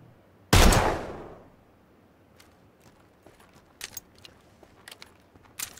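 A single loud gunshot rings out in PUBG, decaying over about half a second, followed by scattered fainter distant shots and small clicks.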